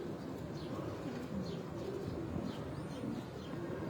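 Pigeons coo steadily on a rooftop in Multan, soft repeated low calls overlapping one another against a constant outdoor background.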